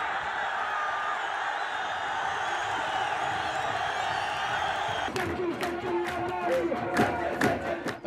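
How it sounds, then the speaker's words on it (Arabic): A large football crowd packs Idlib stadium, a steady dense roar of many voices filling the stands, swelling into sharper cheers, whoops and shouts after the first few seconds. "هذه أول مرة أشاهد فيها هذا العدد من الجماهير في استاد إدلب الرياضي، الاستاد ممتلئ بالكامل"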